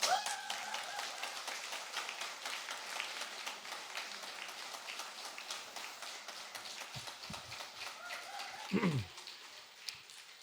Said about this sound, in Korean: 우리 이춘수 목사님 나오실 때 큰 박수로 환영해 주시기 바랍니다